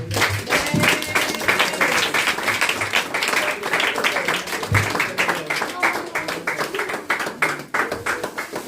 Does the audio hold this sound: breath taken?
no